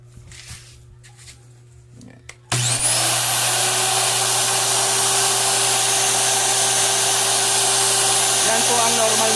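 A newly repaired Makita LS1040 miter saw is switched on after some quiet background noise and low hum, then whines loudly and steadily at full speed for about seven seconds with no cutting heard.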